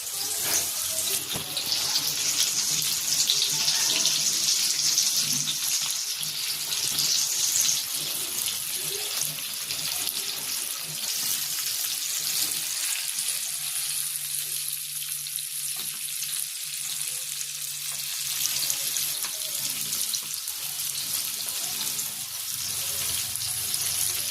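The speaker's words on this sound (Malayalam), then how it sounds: "നല്ലപോലെ ഒരു 15 മിനിറ്റ് വേവട്ടെ. നല്ല ഡീപ്പ് ഫ്രൈ ആവണം." Fish deep-frying in hot oil, Kerala style, gives a loud continuous bubbling hiss that holds steady for the whole stretch, with no voices heard.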